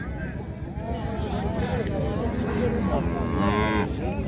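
Cattle mooing amid a busy market crowd where a farmer is buying Friesian cows and heifers, with drawn-out lowing calls rising over steady chatter and voices talking nearby.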